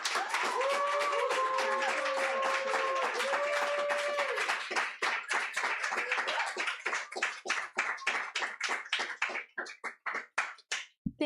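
An audience at a book launch for the novel Rogue Astronaut in Los Angeles breaks into applause, dense at first with a few cheers, then thinning out into scattered individual claps.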